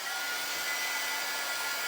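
A hair dryer blows steadily on a freshly made banner garland design, giving a continuous, even, close-up whooshing hiss for the whole stretch with no talking.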